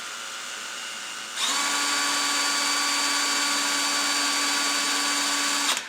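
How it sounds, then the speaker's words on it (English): Electric drill switches on after a quiet hum and runs at a steady high-pitched whine for several seconds before cutting off, close and loud. "I'll put my drill on"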